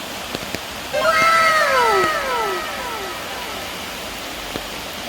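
Rain falls at a waterfall on a wet outing, making a steady, full hiss throughout. A cat's drawn-out meow rises and fades over the water noise near the start.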